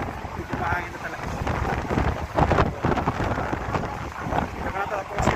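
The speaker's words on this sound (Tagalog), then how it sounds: "Medyo mahangin na talaga." Strong wind buffets the microphone in gusty, uneven rushes, roaring close and loud with crackling bursts.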